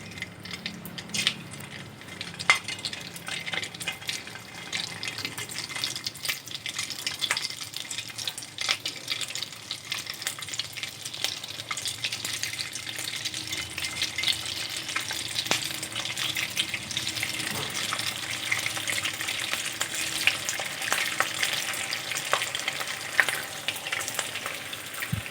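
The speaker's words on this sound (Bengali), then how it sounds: "এগুলো ভেজে নেব।" Grated rice pieces frying in a pan for Bengali-style zarda pulao, a steady soft crackling sizzle that continues throughout with no talking.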